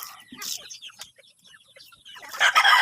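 Chickens cluck and chatter nearby, a mix of short murmurs and clucks, with a louder squawking burst near the end.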